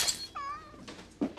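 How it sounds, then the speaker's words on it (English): A house cat gives one short, quiet, plaintive meow off-screen in a film scene, set against faint background sounds. "it's a subtle off-screen disappointed meow from the kitty"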